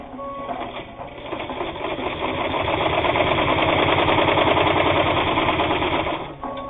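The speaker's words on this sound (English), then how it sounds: "this fine precision sewing machine has no problem sewing 8 layers of heavy denim" A Japanese-made precision sewing machine stitches through eight layers of heavy denim with a fast, rapid mechanical chatter that starts up, runs evenly at close range for several seconds, and then stops.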